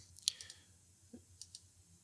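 Computer mouse clicking while editing layers in image software, a few sharp, close, quiet clicks spaced irregularly over a low background hum.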